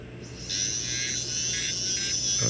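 Small rotary dental tool with a disc grinding between dental implant components: a steady high-pitched whine that steps up to full speed after half a second and holds, close and continuous, with no talking.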